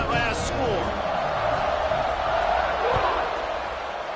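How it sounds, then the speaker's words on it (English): Stadium crowd buzzing at a college football game after a score, a dense, loud roar of many voices with whoops and cheers throughout, heard under a commentator talking. "this crowd is buzzing after that last score"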